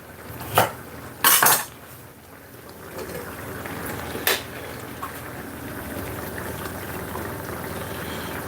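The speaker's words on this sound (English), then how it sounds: "I'm gonna cut the carrot a little bit chunky because it's stew" A kitchen knife chops carrots into chunky pieces for a stew, giving a few sharp, close knocks on the board early on, then fading to a quiet room hum.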